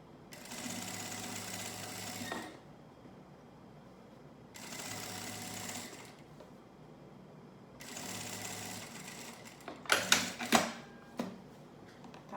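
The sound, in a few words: sewing machine stitching bias binding on a lunch bag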